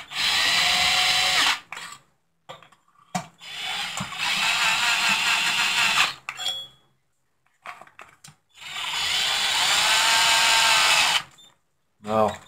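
A power drill snugs the cylinder bolts on a Stihl MS660 chainsaw build in a crisscross pattern. It runs in three long whirring bursts, close and loud, with short ratcheting clicks and quiet pauses between them.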